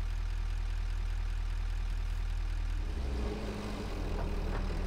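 Tractor engine in the factory video game Satisfactory, a steady low idling rumble that shifts around the three-second mark as the vehicle pulls away, heard alone without talk.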